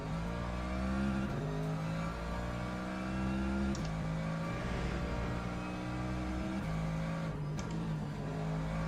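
An LMGT3 race car in Le Mans Ultimate drones loudly and steadily at close range, its engine note rising and falling as it revs through gear changes, with no voices over it.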